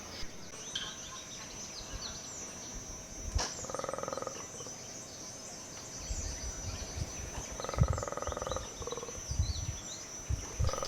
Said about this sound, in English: a colobus monkey.